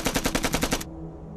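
Rapid automatic gunfire from two rifles in an Indian Army war film bunker battle, about eight loud close shots in a quick even burst that stops abruptly, leaving a low rumble.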